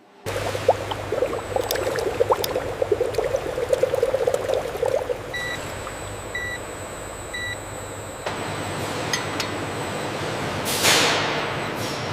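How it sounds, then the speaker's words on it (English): Dragon fruit puree blending with water inside a mixing tank in a fruit processing factory, a steady pouring, sloshing liquid rush with machine hum and intermittent electronic beeps in the middle section. "we blend the finest dragon fruit puree with precise amounts of water in our state-of-the-art mixing tanks"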